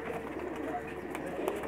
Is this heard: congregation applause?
no